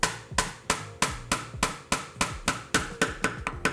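A wood chisel set in a dovetail line is struck by a mallet, giving about a dozen sharp, evenly spaced knocks that ring briefly and sit close and clear, with no talk.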